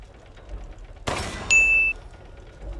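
A bell in Resident Evil 8 is hit by a gunshot, a sharp crack followed by a bright metallic ding that rings briefly and cuts off, with quiet ambience before and after.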